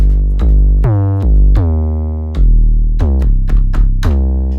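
A Korg Drumlogue's nano synth engine plays a loud, deep bass line, with sustained notes and quick staccato hits in a loose rhythm and rich harmonics throughout, heard alone with no voices.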